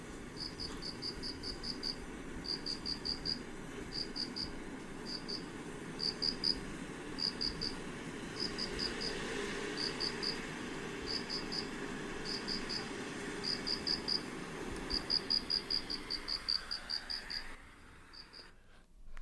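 Crickets chirping on an autumn evening, picked up on a phone field recording: a steady train of faint, quick pulsed trills repeating every second or so over a soft, rumbling background hiss.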